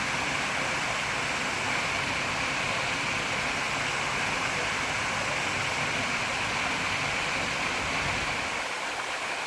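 A steady, broadband rush of water falling at a waterfall fills the scene, constant and fairly distant-sounding, with no voices.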